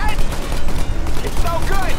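Rapid bursts of gunfire in the video game Mafia: Definitive Edition crackle over a dense, noisy battle mix, with speech faintly underneath.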